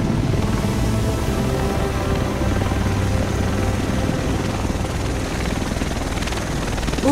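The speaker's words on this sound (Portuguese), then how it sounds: "O resto de nós deve estar nesse helicóptero." Helicopter rotor chopping loud and steady in the video game The Division, set in Manhattan, a continuous throbbing drone with engine whine filling the whole stretch.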